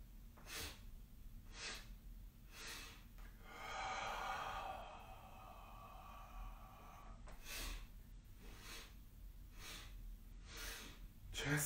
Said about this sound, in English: inhale for four, exhale for four